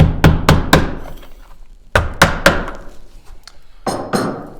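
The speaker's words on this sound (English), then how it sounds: "it's just a matter of gently prying the stop open" A pry bar works the glazing stop loose on a Gaulhofer Energy line PVC window, giving clusters of sharp taps and knocks in quick bursts with short pauses, close and fairly loud, with no talk.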